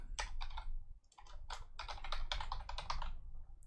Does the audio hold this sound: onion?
no